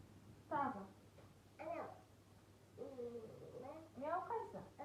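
A cat meows several times, with three or four drawn-out, rising and falling calls separated by short pauses over a faint steady hum, set within a children's learning game.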